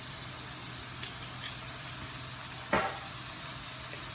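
Browned beef sizzling steadily in a pan for pasta Bolognaise, with a continuous loud frying hiss and a brief sharper burst as balsamic vinegar is sprinkled on, no voices.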